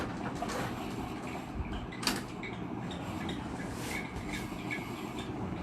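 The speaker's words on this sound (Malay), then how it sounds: "Ada orang dia tak boleh dengar bunyi kipas." An electric fan running in a home, giving a steady broadband whir that holds at an even level throughout with a few faint clicks and creaks.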